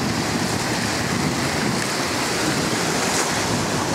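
Ocean surf at Betalbatim beach in South Goa, a steady broadband wash of waves mixed with wind buffeting the microphone, loud and continuous with no voices.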